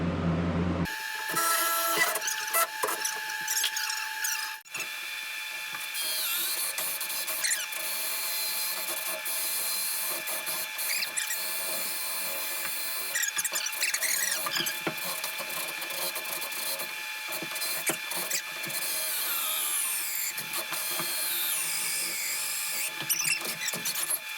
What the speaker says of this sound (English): I'm going to drill this one from this side with my auger